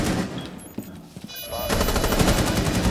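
Rapid automatic gunfire rattles in a competitive tactical shooter match, a dense loud burst taking over after a quieter stretch of game sounds, close and continuous.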